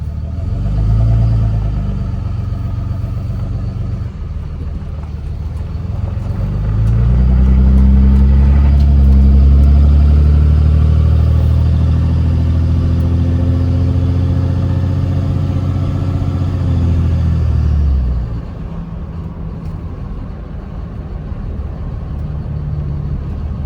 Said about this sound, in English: But we're gonna go ahead and go for a drive.